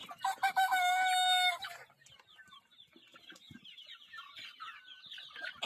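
Sonali chickens on a poultry farm, birds averaging about 900 grams: a loud rooster crow rings out close by, then steady overlapping clucking from the flock continues at a lower level.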